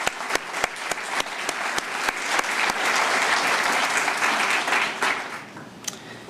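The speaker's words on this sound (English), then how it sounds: "I'd like to recognize you and give you a round of applause." A room stands and claps for the Vinton Town Council at a town address, opening with a few sharp separate claps before swelling into steady, dense applause that thins toward the end.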